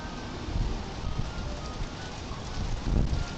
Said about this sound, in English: that wind's awful